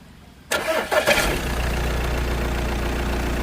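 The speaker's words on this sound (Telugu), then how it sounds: "స్టార్ట్ చేస్తున్నాను, ఒకసారి సౌండ్ అయితే చూద్దాం" An Audi A4 35 TDI diesel engine cranks and catches with a few loud surges, then settles into a steady low idle rumble that continues close by without any talk.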